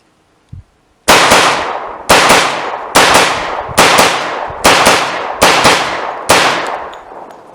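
A 10mm Glock pistol fed from a Kriss Vector magazine fires seven loud, sharp shots at a steady pace of about one per second, each ringing out with a decaying echo, after a brief click.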